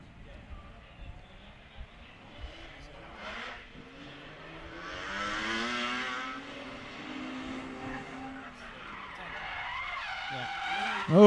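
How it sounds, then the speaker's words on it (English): Drift car at a 2017 drifting competition round spinning out on the entry to a hairpin, tires skidding and squealing at a distance as the engine revs rise and fall, with crowd and commentary ambience in the background. "Nathan Borodaka with a spin on the entry and the hairpin."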